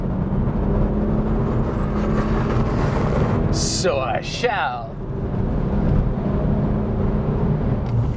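Engine of a BMW 1M Coupe under hard acceleration, a loud, close, sustained roar from inside the car, with a brief spoken remark partway through.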